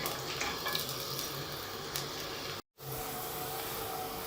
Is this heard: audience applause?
no